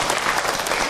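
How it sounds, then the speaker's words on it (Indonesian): Audience applause for Aiman at an Islamic religious talk, a dense, steady wash of clapping from a crowd filling the whole moment without pause. "tepuk tangan buat Aiman"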